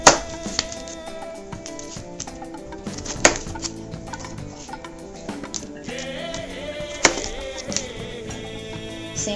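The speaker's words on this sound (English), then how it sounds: "Simply going to dice it up in chunks." Scattered knife taps and chops on a cutting board as summer squash is diced into chunks, irregular and close, over background music.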